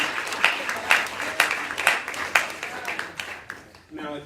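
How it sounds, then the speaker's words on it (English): Audience applause at a church preaching event, a steady wash of many hands clapping with sharp bursts roughly every half second, fading out near the end. "Let's give them a hand clap of praise one more time"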